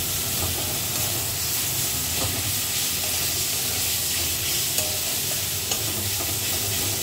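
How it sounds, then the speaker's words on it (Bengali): Spice paste with ginger and garlic paste frying in a pan, a dense continuous sizzle and hiss with occasional stirring clicks, close up and steady throughout. "সব কিছু দিয়ে ভালো মতো করে মশলাটাকে কষিয়ে নেব"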